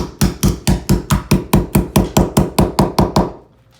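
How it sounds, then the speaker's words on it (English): A hammer strikes a plastic lid about fifteen times in quick, steady succession, loud and close, then stops into quiet. "hit them with a hammer"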